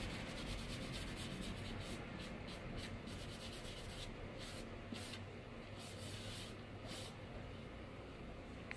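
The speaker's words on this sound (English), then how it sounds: "I'm just gonna take a rag and quick get all my sanding dust off." A rag wiping sanding dust off furniture coated in Dixie Belle paint, a steady close-up rubbing and swishing that runs continuously with slight rhythmic strokes and no voices.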